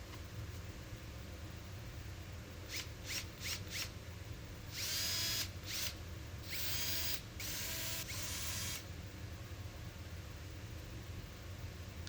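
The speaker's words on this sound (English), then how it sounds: "drill some pilot holes and screw it down" A power drill bores pilot holes into a 2x4 wood piece in a workshop, with a few quick whirring bursts followed by longer high-pitched runs over a constant background hiss.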